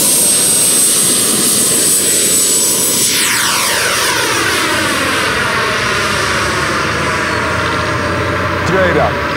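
Electric ducted fan RC model jets, including a 3.2 kW Freewing Avanti and high-power EDF jets, whoosh past loudly with a steady turbine-like roar and a clear pass-by sweep midway, with voices in the background.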